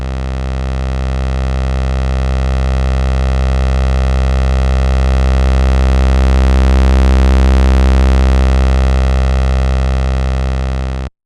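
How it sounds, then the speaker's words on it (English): A loud, sustained buzzy sawtooth tone from a Trooper synthesizer oscillator with Esprit turned up holds one steady pitch for about eleven seconds, bright and harmonically rich, with no other sounds. "I'm gonna run the first oscillator at this octave, a sawtooth waveform"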